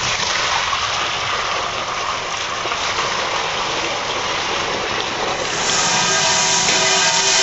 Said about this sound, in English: Now we're going to pour the stainless steel container into the funnel to get rid of the bleach